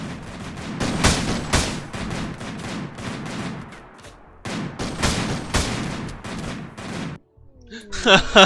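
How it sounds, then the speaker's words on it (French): Rapid gunfire bursts in the video game RimWorld, loud sharp volleys of shots in quick succession with short pauses, then a brief lull and a final cluster of cracks. "il commence à tirer sur mon personnage"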